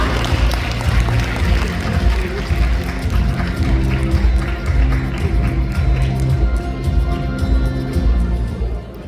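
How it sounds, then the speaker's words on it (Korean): A large audience at a Korean business event applauds to welcome an executive vice president, a loud, dense, sustained wash of clapping that holds evenly throughout. "큰 박수로 모시겠습니다"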